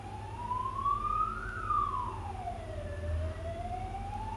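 An emergency siren sweeps up and down in a slow wail, fairly close, over a low engine drone.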